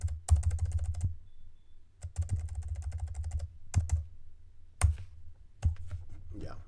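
Computer keyboard typing and deleting text while building a plumber's website, with close key clicks in short clustered bursts separated by brief pauses, no talking.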